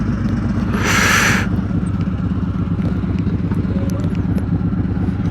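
Motorcycles cruise along the road on a sunny afternoon, with a steady, loud engine drone and rhythmic rumble that holds throughout, plus a brief burst of wind-like rushing near the start.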